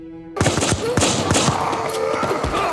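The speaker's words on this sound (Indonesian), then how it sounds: "Saat suara tembakan meledak" Rapid bursts of gunfire crack out in a dense volley, sharp loud shots overlapping with echoing reports, after a brief quiet start.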